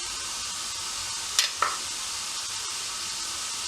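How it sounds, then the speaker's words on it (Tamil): Mango pieces and sugar cooking in a pan over medium heat give a steady, soft sizzle, broken by two brief sharp clicks from stirring midway. "அடுப்பை மீடியம் ஹீட்டில் விட்டுட்டு நீங்கள் மேங்கோவை இதில் சட்டியில் போட்டுட்டு அதுக்கு நீங்கள் 75 கிராம் சீனி எடுத்து போடுங்க."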